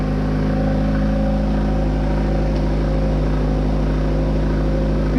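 VW Golf MK3 engine idling high and revving steadily after starting, a loud, continuous close-up drone with a strong low hum and no pauses.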